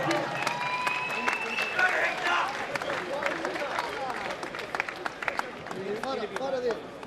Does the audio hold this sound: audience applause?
yes